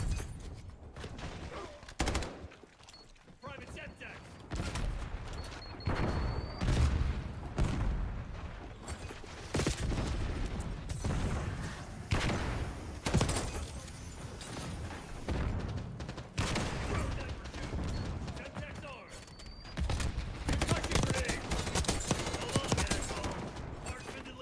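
Machine-gun fire in the video game Snowbreak rattles in repeated rapid bursts throughout, with booming hits mixed in at moderate level.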